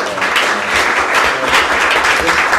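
A conference audience applauds the speakers after a growth-finance panel, loud, full clapping that holds steady from start to finish without talk.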